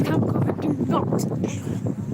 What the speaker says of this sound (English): Sorry guys, it's just so windy out here.